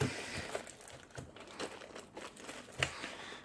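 Crisp crinkling of the plastic bag around a car air purifier filter in short irregular bursts close by, with scattered rustles and a sharper crackle near the end.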